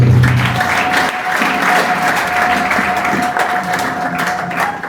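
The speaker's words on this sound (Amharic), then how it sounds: "አጨብጭቡ ለእግዚአብሔር" Steady applause from a large crowd, dense and sustained clapping throughout with a faint tone humming underneath.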